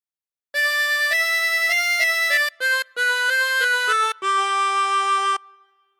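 A 24-hole tremolo harmonica plays a short melody from God Defend New Zealand with a wavering tone, held notes changing in steps with brief breaks between phrases, then a final sustained note fading out.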